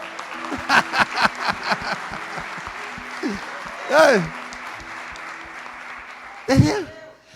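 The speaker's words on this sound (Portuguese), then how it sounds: "Dá um aplauso, Senhor Jesus" A church congregation applauds in a steady wash of clapping, moderately loud, with a voice speaking over it and a couple of short sung or shouted vocal bursts.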